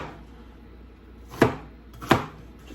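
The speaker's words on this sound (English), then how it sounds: "I'm just gonna, like I said, just rough chop these" Two crisp knife strikes on a cutting board as vegetables are rough chopped, evenly spaced and close, with quiet room tone between them.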